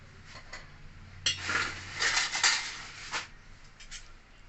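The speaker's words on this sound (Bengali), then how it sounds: "তো চামচ সাহায্যে আমি কাঠগুলো বার করে নিলাম।" A spoon scraping and clinking against a bowl while pulling seeds from boiled mangoes, a few soft scrapes and taps clustered in the middle, quiet and close with no talk.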